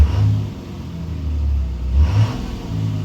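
Ram 2500HD with a Cummins diesel engine revving under a pressed throttle, a deep close rumble that swells and falls twice in quick succession.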